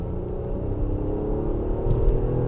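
A 3.5-liter V6 in an Infiniti QX60 pulling onto a freeway, a low steady engine rumble and road drone heard from inside the cabin, rising slightly toward the end.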